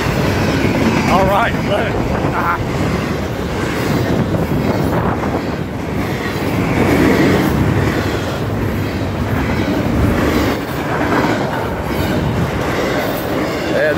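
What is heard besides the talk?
long freight train passing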